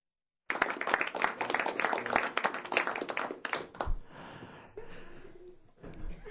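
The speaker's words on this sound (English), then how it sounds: "maybe everyone can just take a moment with me and have a round of applause" A commission meeting audience breaks into applause of appreciation for a colleague, many hands clapping briskly after a moment of silence, then tapering off into scattered claps and faint room noise.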